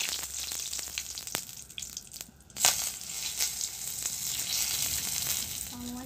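Drumstick pieces and potato with cumin and spices frying in a pan in a home kitchen, a steady close sizzle with scattered crackles and stirring scrapes throughout.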